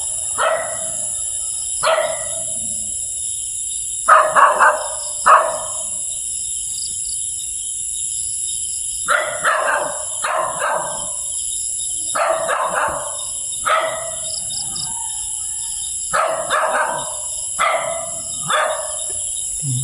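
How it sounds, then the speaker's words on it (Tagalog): A dog barks outdoors near a house in repeated short bursts and pairs, spaced across the stretch, over a constant high chorus of crickets and insects, with no talk. "Aso."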